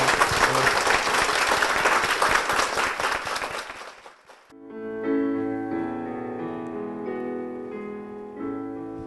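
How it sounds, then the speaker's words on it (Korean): A church congregation applauds loudly for several seconds, the dense clapping then dying away as sustained organ or keyboard music begins alone. "다시 한번 큰 박수 부탁드리겠습니다"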